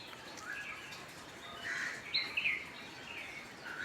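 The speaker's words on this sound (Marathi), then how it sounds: "सकाळी पक्षी" Faint birds chirp and twitter in the morning in Konkan woodland, a few short calls rising over a soft, quiet outdoor hush.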